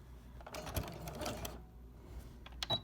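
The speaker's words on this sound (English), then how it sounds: "I'm going to make sure that I'm sewing close to the edge again." A sewing machine stitching a quilted potholder through thick fabric, a quiet, close mechanical whir in short bursts with pauses and a small click near the end.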